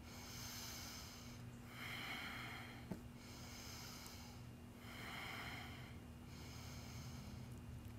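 Slow, steady breathing while holding sphinx pose in a yoga trapeze core workout, several long, even inhale and exhale cycles, close and soft over a low steady hum, no talking.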